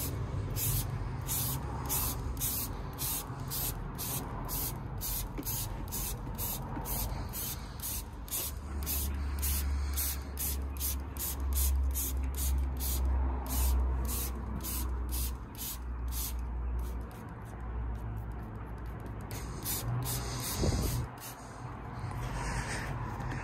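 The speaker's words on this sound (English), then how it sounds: "So I'm going to start spraying the product" Lanoguard under-car protection is sprayed onto the underside of a Honda Civic Type R (FN2) on a driveway: a close, steady hiss runs throughout with rapid pulsing bursts and a low rumble underneath.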